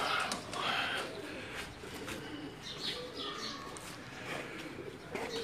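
Misse breed pigeons coo softly in a loose, low-level patter, with faint chirps and a few wing flutters, while someone talks nearby.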